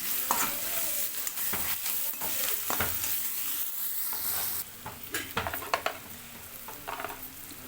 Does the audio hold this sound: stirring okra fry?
yes